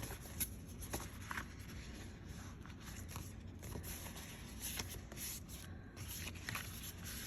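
A paper card for a frosted gingerbread double Z-fold design being folded by hand, with soft close rubbing and crisp creasing rustles, a few sharper paper taps scattered through.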